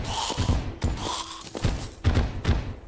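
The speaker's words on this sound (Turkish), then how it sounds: "Havai fişek şeklinde patlıyor ve çok manyak bir şekilde hasar veriyor." A Terraria rocket launcher fires rockets that burst like fireworks, giving a rapid series of booming thumps and crackling explosions, loud and close, repeating across the stretch with a busy game soundtrack beneath.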